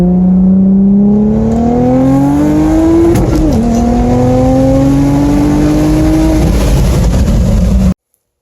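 A turbocharged Audi B5 S4 making about 480 wheel horsepower roars on a dyno, its engine pitch climbing steadily through a long pull with a brief dip midway, loud and close, before cutting off abruptly.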